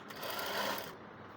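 A sewing machine runs in one short, steady burst, stitching a puff sleeve in a boutique, then stops abruptly.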